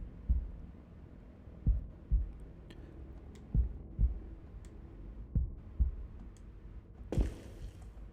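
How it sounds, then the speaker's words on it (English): A heartbeat sound effect from the Tsukihime visual novel, played as low, soft thumps in a slow, uneven rhythm of roughly eight beats. A sharper, brighter hit lands near the end. "Mixed with my heartbeats in another sharper sound."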